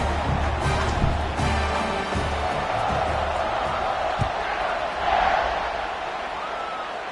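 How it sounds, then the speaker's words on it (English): Stadium crowd from the Madden 26 football video game buzzes steadily through a college-football kickoff setup, a dense continuous roar with a brief swell near the end and no clear voices on top. "this crowd is buzzing after that last score"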